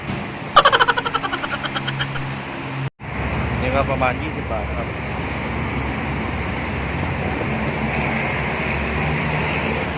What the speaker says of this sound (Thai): เสียงรถจะเยอะหน่อยนะครับ